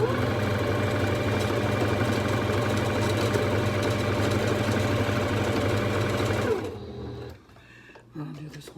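A sewing machine stitches doll bedding fabric with a steady, close, loud mechanical whirr for about six and a half seconds, then stops, leaving quieter handling noises.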